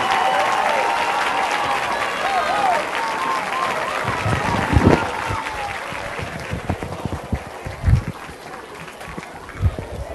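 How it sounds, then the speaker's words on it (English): Crowd applause at a high school football halftime show for the American Christian Academy Patriot Band's inaugural marching performance: sustained clapping from the stands with an amplified announcer's voice over it at first, easing into scattered claps and cheers. "a round of applause for the inaugural marching performance of the American Christian Academy Patriot"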